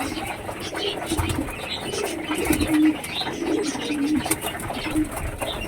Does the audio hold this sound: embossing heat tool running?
no